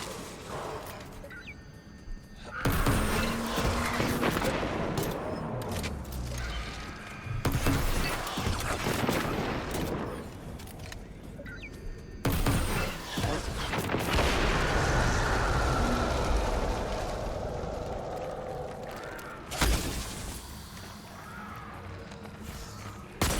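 Heavy gunfire and booming shots in the video game Destiny 2, with sniper rifle fire in a Master Lost Sector boss fight, loud bursts breaking in at several points over a continuous battle din.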